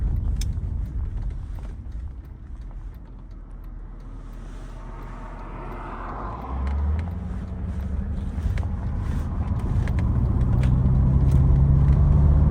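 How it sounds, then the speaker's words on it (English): A 1993 Mercedes W126 500SE with its V8 pulling away into traffic, a loud steady low rumble that swells as it accelerates, heard from inside the car with some wind noise and no talk. "As we come up to CV Road here, and Bella accelerates into traffic."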